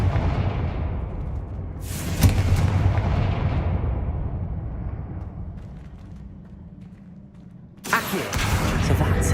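A fiery Confringo spell blast goes off in the Hogwarts Legacy video game: a sharp loud explosion near the start rolls into a long fading rumble, and a second abrupt blast bursts in near the end.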